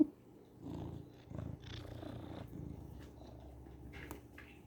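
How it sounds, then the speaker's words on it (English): Soft, close purring with a low rumbling texture, steady and quiet, broken by a few brief louder rustles. "you've got some of the best purrs"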